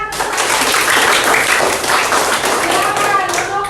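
A sixth-grade primary school class claps together in a classroom, producing loud, close, dense clapping that stays steady throughout, with children's voices mixed in.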